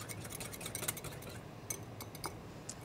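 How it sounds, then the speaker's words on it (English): A whisk clinks steadily against a bowl as cocktail sauce with horseradish and squeezed lemon is mixed, a close, continuous run of light metallic ticks and scrapes with no talking. "Whisk it up a little more."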